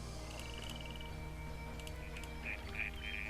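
Bird calls from the reeds in the video game Pharaoh: a series of bright, rapid chirps at first, then several sharper chirps toward the end, faint, over a steady low ambient hum with no speech.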